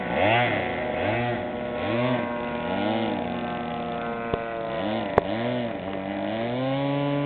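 A Great Plains Stearman biplane model engine buzzes while taxiing for takeoff at a warbird airshow, its loud nasal drone rising and falling in pitch repeatedly, with a couple of sharp clicks partway through and no talking.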